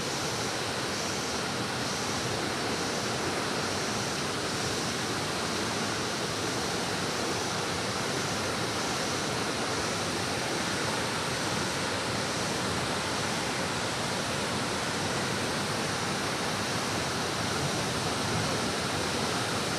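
Jung Falls in Arunachal Pradesh pours in a constant, loud roar of rushing water, broad and unbroken with no voices.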